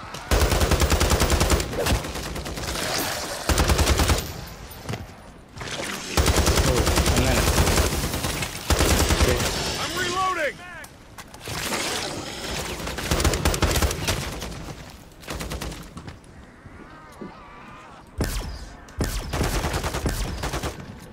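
Gunfire from Call of Duty: Modern Warfare 3 Zombies: loud, sustained automatic bursts broken by brief pauses, with players talking over the shooting.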